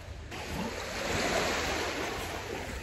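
Sea waves wash steadily onto a Greek beach, a broad continuous rush of surf heard close and fairly loud, with a little wind noise and no talking.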